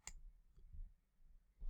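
A computer mouse gives a couple of quiet, sharp clicks, one at the start and another near the end, with near silence between.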